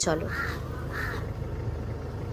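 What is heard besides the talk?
crow cawing in a tree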